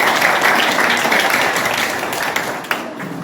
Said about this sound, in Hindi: इन दोनों के लिए तालियां बजाओ।